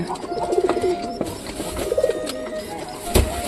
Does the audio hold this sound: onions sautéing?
no